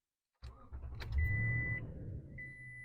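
A car engine cranks and catches after brief silence, settling into a steady idle rumble, while a thin electronic beep tone sounds twice over it, close and fairly quiet.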